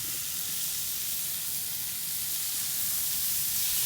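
Thick cut bacon strips sizzling on a Blackstone griddle, a loud, steady, dense hiss of frying fat continuing unbroken, with no talk.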